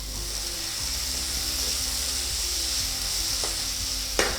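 Keerai greens cooking in a pan, a steady soft sizzle and hiss close by with occasional light clinks of a utensil near the end, no voices.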